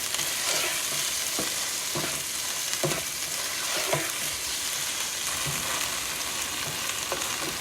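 Chopped tomatoes hiss loudly in hot oil with ginger garlic paste for a masoor dal and eggplant dish, a dense continuous sizzle with periodic spoon strokes and scrapes, close and alone.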